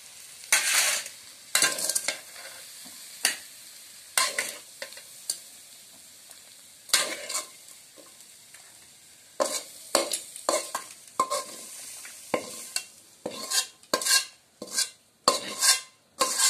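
Vegetables sizzle softly in a hot pan while a utensil scrapes and stirs them in irregular bursts, the clinks and scrapes close and distinct against a faint frying hiss.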